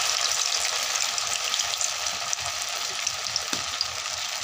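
Semolina and potato fritters dropped straight into hot oil in a wok, a dense continuous sizzle with small crackles and pops, close and fairly loud, no voices.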